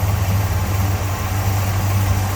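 A 1971 Pontiac GTO Judge survivor engine idles in a low, steady rumble, close and continuous, with no voices over it.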